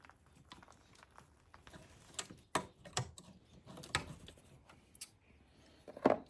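Loosening metal band clamps on an APR Carbonio carbon car air intake with a 7mm tool and a flathead, giving scattered faint clicks and ticks close by with brief scraping handling noises, no talk.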